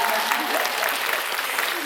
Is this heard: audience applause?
yes